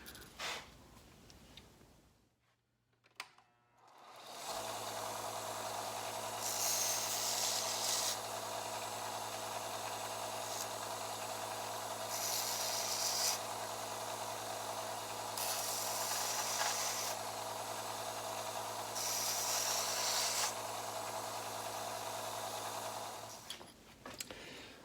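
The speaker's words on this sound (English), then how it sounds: "I'm just going to take them over to the belt sander, on the benchtop belt sander, just kind of get rid of the little fragments" Benchtop belt sander in a workshop grinding leftover burrs off small metal pieces cut with a cutoff wheel; a steady, loud mechanical whir starts after a brief quiet and runs continuously, with periodic surges of harsher grinding as each piece is pressed to the belt.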